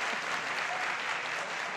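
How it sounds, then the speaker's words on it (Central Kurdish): Audience applause fills a speaking event: a dense, steady patter of many hands clapping together, loud and continuous throughout with no break. "چەپڵە لێبە"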